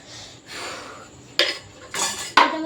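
A kadai is set down on the stove to fry a bhaji, giving a few distinct metallic clanks and knocks in a quiet kitchen.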